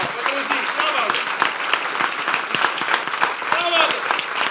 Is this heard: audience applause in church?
yes